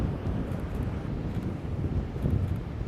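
Wind gusts across a microphone outdoors at a Florida photoshoot, a low steady rumbling buffet that fills the whole moment with no voices.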